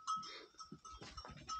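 Sheep and lambs bleat in barn pens, short overlapping calls that are fairly quiet and slightly distant, heard alone without talk.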